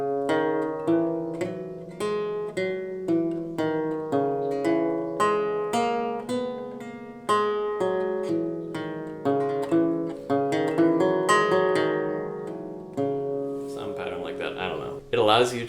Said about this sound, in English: campanella, which is sort of like a bell-like technique